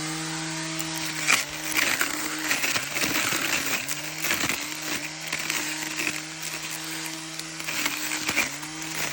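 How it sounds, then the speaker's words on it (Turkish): A cordless battery grass trimmer fitted with plastic blades cuts dry grass, its motor whine repeatedly dipping in pitch under load and recovering, with scattered crackling of grass stalks, close and fairly loud. "Şimdi şarjlı ot biçme makinesi"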